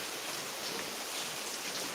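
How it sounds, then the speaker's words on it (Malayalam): Faint, steady rain falls evenly throughout, a soft continuous hiss with no voices. "മഴയുടെ ശബ്ദം അല്ലേ"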